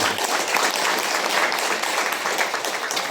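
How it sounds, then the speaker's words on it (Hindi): Steady, dense applause rises from an audience at a prayer and healing gathering in Pune, filling the whole moment at an even, fairly loud level. "ताली मारो, चलो।"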